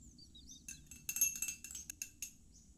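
A utensil clinks and scrapes against a bowl while a margarine and egg mixture is stirred, a quick cluster of light, bright taps, close and moderately quiet with no talking.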